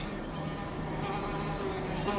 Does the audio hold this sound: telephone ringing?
no